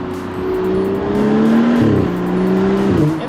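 A BMW 435i M-Sport fitted with an Akrapovic exhaust revs loudly up close, the engine note rising and falling through several throttle pulls in a deep, rasping growl.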